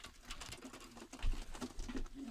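Soft, low pigeon coos repeat several times close by in a pigeon loft, with faint rustling and background murmur between the calls.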